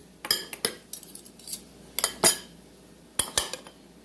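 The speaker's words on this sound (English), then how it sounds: "I like to put a spoon in this one just to make it a little bit easier for everybody" A serving spoon clatters into a dish of taco salad in several sharp, close metallic knocks and scrapes, grouped in bursts with quiet gaps and no speech.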